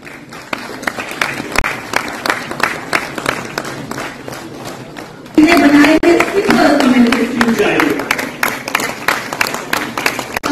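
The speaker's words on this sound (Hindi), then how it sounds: "जोरदार तालियों से इनका स्वागत कीजिए" Audience applause welcoming a guest to the stage at a JK Bank KCC and self-employment event, steady dense clapping that swells louder partway through, with a host's voice talking over it.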